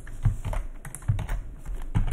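Typing on a computer keyboard at a desk set up for music production, a quick scatter of close, crisp keystrokes with a few heavier thumps at regular points, no voices.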